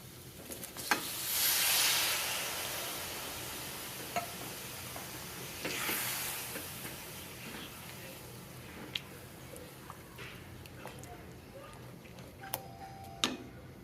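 Masala sizzles gently on low heat in a little oil with salt, sugar and two chillies for a vegetarian dish, a faint, quiet frying hiss that swells twice, with sparse spatula clicks and scrapes.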